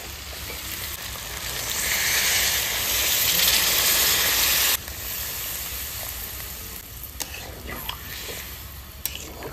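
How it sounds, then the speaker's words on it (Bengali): Chicken curry sizzles and fries loudly in a pan, a burst of hissing steam swelling as water is poured in before settling to a steady simmer with faint stirring clinks. "আমার চিকেন কষানো হয়ে গেছে, আমি এবার জল দিয়ে দেবো।"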